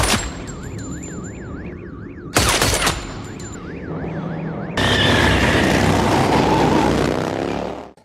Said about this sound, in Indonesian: ia melepaskan 2 atau 3 tembakan lagi lalu segera kabur dari sana.